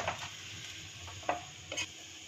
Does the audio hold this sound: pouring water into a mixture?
no